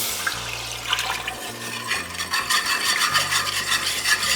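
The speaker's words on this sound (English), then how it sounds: "Now we're going to go in with our broth." Broth pours into a flour roux in a pot for baked potato soup, giving a steady splashing, sizzling hiss that grows fuller and louder toward the end, heard alone up close.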